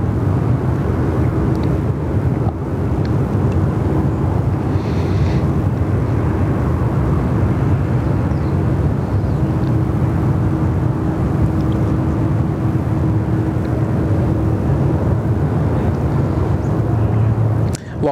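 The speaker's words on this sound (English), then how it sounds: "the A330 Neo, she's special, isn't she?" An Airbus A330neo airliner at Sydney Airport roars steadily for the whole stretch, a broad continuous rumble that stays loud and close without any clear rise or fade.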